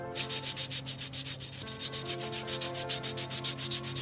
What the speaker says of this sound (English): What's abrasion? Well, I can show you abrasion.